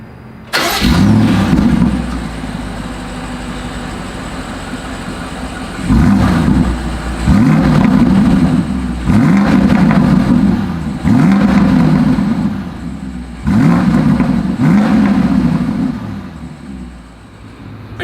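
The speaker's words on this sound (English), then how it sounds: "As always, here is that exhaust clip." A 2022 BMW X5 engine cranks and fires up, then settles into a steady idle broken by several sharp, loud exhaust revs that rise and fall in a repeating pattern, with no talking.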